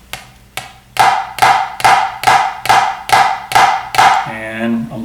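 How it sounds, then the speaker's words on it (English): Snare drum flams practiced in a steady series of about nine crisp, evenly spaced double-stroke hits, each grace note closely ahead of the main stroke, played close and loud with ringing decay, ending in a brief ringing tone. "So that's the way you practice your flams."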